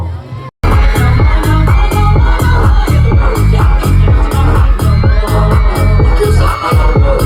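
Supporters at a school sports day cheering during the boys' football final at Chiang Rai's Chulabhorn arena: a loud, close crowd chanting in a steady pounding rhythm, with drums beating regular booming hits under the massed voices.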